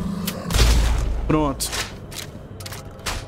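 A loud booming gunshot with a mechanical clack in the video game Blood West, shooting a shrieking creature, followed by game sound effects and someone speaking briefly.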